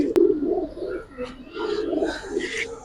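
Soft, low pigeon coos repeat in a few gentle phrases, close by, with a brief sharp click near the start.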